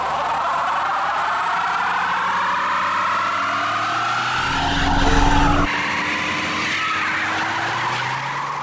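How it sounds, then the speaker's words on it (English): Supercharged mid-engine, rear-wheel-drive Toyota Previa minivan doing a burnout, with a loud sustained tire squeal over the engine, rising in pitch and swelling into a harsher roar midway before settling back. "You ever seen a minivan do burnouts?"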